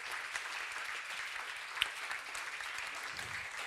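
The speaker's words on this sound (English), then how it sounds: "Please, a round of applause for all of these gracious people." An audience at an Ig Nobel show at a university claps in sustained, even applause, a soft crowd of many hands heard from a distance without talk.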